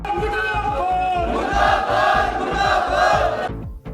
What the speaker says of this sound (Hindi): इस आक्रोश रैली में भारी संख्या में सुंदरनगर भाजपा के कार्यकर्ता, युवा मोर्चा के कार्यकर्ता मौजूद रहे